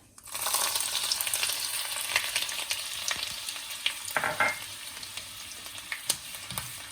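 Ginger fries in hot oil with mustard seeds, giving a loud, steady sizzle that starts abruptly, with a few scraping stir sounds breaking through near the end.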